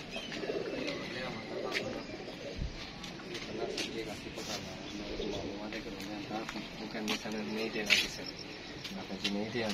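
A flock of around 28 pigeons coos in steady low murmurs beneath ongoing voices, with a busy, cluttered background throughout.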